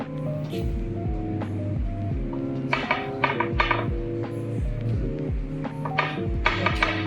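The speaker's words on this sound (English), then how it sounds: "Oh, this pan is very noisy." A sushi bake mixture is pushed into a noisy metal baking pan, giving sharp clanks and rattles in several short bursts over a steady tonal background.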